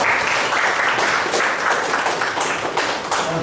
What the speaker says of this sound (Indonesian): Tepuk tangan buat Dewi ya.